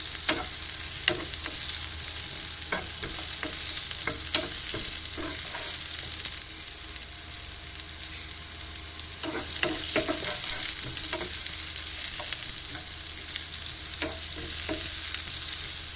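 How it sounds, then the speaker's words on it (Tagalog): Garlic frying in oil until it browns for a beef and oyster sauce stir-fry, a continuous bright sizzle with scattered taps and clicks of stirring, no voices. "Antayin lang natin maging brown ang garlic"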